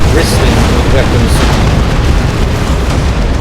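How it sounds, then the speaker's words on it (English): Two nuke blasts, one from each side, detonate in a Dawn of War 2 3v3 battle, loud booming explosions with rumbling low-end and crackling debris, heavy and continuous over battle noise. "A double nuke, one from each team."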